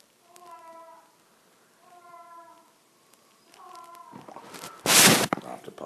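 A cat with a mouse meows three times in drawn-out calls, close and fairly loud, followed by a burst of rustling noise.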